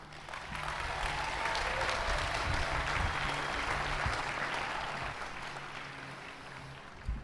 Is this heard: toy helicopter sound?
no